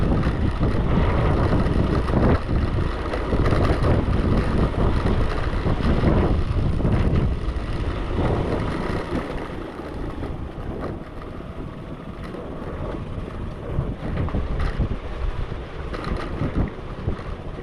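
Strong, cold wind sweeps across a mountain road on the Killar to Kishtwar route in India, buffeting the microphone with a loud, continuous roar that eases slightly midway before gusting up again, with no talking.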